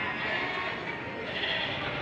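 Goats bleating at a livestock market, a steady crowd of animal calls overlapping close by under constant background chatter and market noise.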